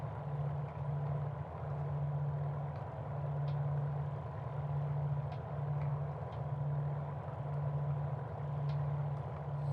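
A Caudron C.430 Rafale, a 1934 racing aircraft, drones steadily inside Microsoft Flight Simulator. Its engine makes a constant low hum with a slight pulsing throb, and it runs without a break at a fairly even volume.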